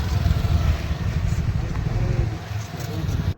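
A vehicle rolls into a resort parking area, its engine giving a short, close, fluttering rumble that stays fairly even before cutting off abruptly.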